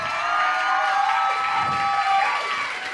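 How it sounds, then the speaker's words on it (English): A poetry slam audience applauds and cheers for young poets on stage, a sustained loud wash of clapping mixed with whoops and shouts. "A big round of applause."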